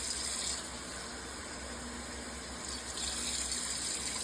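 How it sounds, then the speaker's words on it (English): Water runs steadily from a tap into a cooking pot for rice, a continuous hissing gush with slight changes in pitch as it fills. "We're going to add 6 cups of water"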